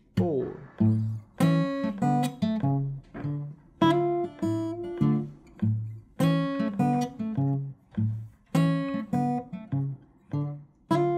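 Acoustic blues guitar plays an eight-bar passage in A with a walking bass line, plucked notes and chords ringing out in a steady, measured rhythm, solo and close.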